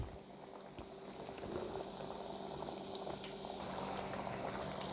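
Rice cutlets fry in a pan over low heat, giving a steady soft bubbling sizzle of hot oil that holds evenly throughout, close and moderately quiet, with no voices.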